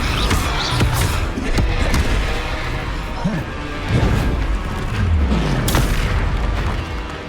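Confringo, the explosive blasting spell in Hogwarts Legacy, lets off booming blasts and crashes over a dense, loud combat soundscape.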